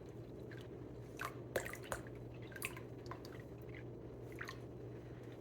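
Water poured onto paint in a container on a scale gives soft, irregular drips and wet squishes, faint and close over a low steady hum.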